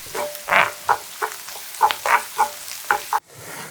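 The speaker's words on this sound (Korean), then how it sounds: "팬을 중약불에 올리고 토마토와 찰떡궁합 올리브유 4스푼, 골고루 볶아서 양파가 반 정도 익으면" Onion and tomato fry in olive oil in a pan over medium-low heat, giving bursts of sizzling and stirring scrapes in an uneven rhythm, close and fairly loud, with no talking.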